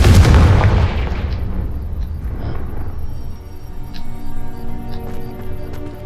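A Confringo blasting spell goes off in Hogwarts Legacy near the school grounds, a loud boom at the start fading into a rumbling tail with faint crackles and pops behind it.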